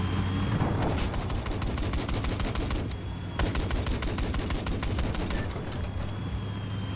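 USAS-12 automatic shotgun firing in the video game Battlefield 4, heard as dense, rapid blasts of gunfire over a constant loud battle din, with a short lull midway and no clear talk.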